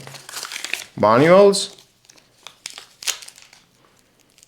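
A box for a Grundig 15W wireless charger stand is opened with crinkling packaging, in short, sparse rustles and crackles around a brief spoken word.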